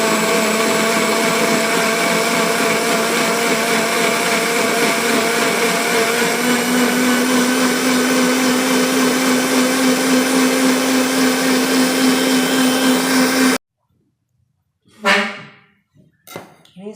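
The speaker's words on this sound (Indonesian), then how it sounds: "Ini saya blender sampai" An electric blender roars loudly through chopped pandan and suji leaves, a dense steady motor drone that runs for about thirteen seconds and then cuts off abruptly, leaving a few brief clattering sounds.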